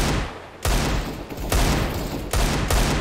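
Desert Eagle pistol shots in CS:GO, with four loud, sharp reports spaced irregularly over a few seconds, each followed by a brief ringing tail.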